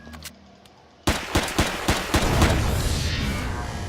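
Robots in a video game fire bursts of gunfire: after a second of near quiet, a loud cluster of sharp cracking shots hits, then rattles on in a dense stream of repeated blasts, up close and without voices.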